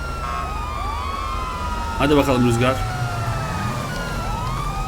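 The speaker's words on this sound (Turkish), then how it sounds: "Sirenleri açıyor muyuz?" Police sirens in GTA 5 wail with rising and falling glides, continuous and fairly loud, while a person briefly speaks over them midway.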